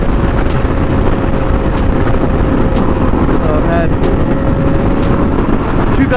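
Heavy crosswind buffets the microphone in a constant low roar over the steady engine drone of a 2018 Yamaha R6 motorcycle riding in Arizona, with someone speaking briefly beneath the noise.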